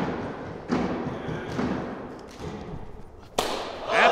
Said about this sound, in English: That ball is hit, and it's a double.